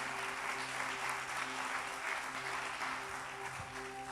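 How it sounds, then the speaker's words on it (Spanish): A church congregation applauds God at a worship service, broadband clapping holding steady over sustained musical tones, moderately loud throughout. "¿Cuántos le pueden dar más fuerte ese aplauso a Dios?"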